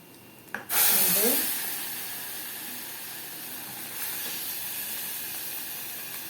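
Broth poured into a hot pot while making kishk: a sudden loud hiss and sizzle of steam that fades into a steady bubbling simmer, close and alone.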